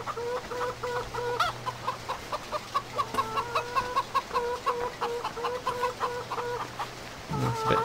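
Several chickens in the video game Farming Simulator 15 cluck steadily in quick rhythmic bursts, close by, over a constant low drone; a brief louder rustle near the end.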